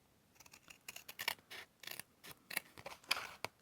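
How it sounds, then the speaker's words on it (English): Scissors snip through paper corner to corner for junk journal corner tucks, producing a quick series of crisp, close cuts in an uneven rhythm with short pauses. "Cutting corner to corner for your corner tucks"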